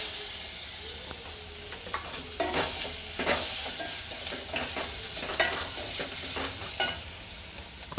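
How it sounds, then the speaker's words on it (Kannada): Finely chopped tomatoes hitting a hot pan, sizzling steadily while the mixture is stirred, with repeated scraping strokes and light clatter, close and fairly quiet. "ಸಣ್ಣದಾಗಿ ಹೆಚ್ಚಿಟ್ಕೊಂಡಿರುವಂತಹ ಟೊಮೊಟೊನ ಹಾಕ್ಕೊಳ್ತಾ ಇದ್ದೀನಿ"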